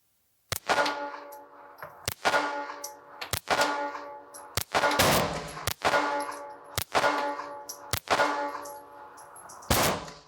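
A Sig P238 .380 ACP pistol fired in a steady string of about eight sharp, loud shots, each with a brief ringing decay, spaced roughly a second apart and heard alone.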